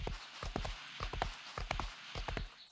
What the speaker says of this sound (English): This horse does not want to go up hills.